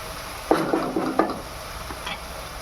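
Ginger, garlic, onion and tomato sautéing in a pan for chicken gravy, giving a brief burst of sizzle with a few stirring scrapes, close and moderately loud, then fading to a low hiss.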